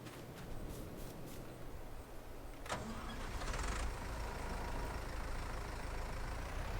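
A tractor engine in a farming video game cranks and catches partway through, then settles into a steady mid-pitched idle that continues to the end.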